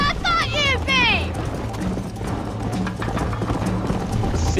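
Horse hooves galloping in the Western game Red Dead Redemption, a rhythmic clip-clop running steadily under game dialogue and a whinny-like vocal flourish near the start.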